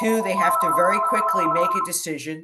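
A cell phone rings during a talk on courts and elections, its steady bright ringtone running under a man's continuous lecture and trailing off as he keeps speaking.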